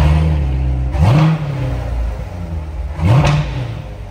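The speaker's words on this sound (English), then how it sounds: "Nice sound. Love the NPP exhaust." A 2019 Corvette 2LT coupe with an automatic transmission and NPP performance exhaust revs sharply twice from a deep burbling idle, each blip barking loud and close before settling back down.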